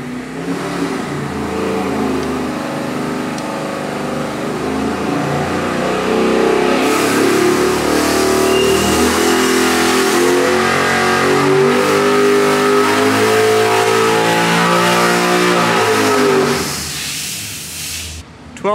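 A 441-cubic-inch LS3 V8 running E85 on a dyno, set to a richer 12:1 air-fuel ratio, roars loud and close through a sustained pull with rising pitch for about seventeen seconds, then cuts off abruptly.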